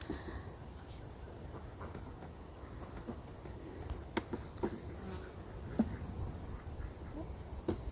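Honey bees hum steadily around an open hive in a faint, close buzz, a few brief clicks and knocks standing out over the continuous drone.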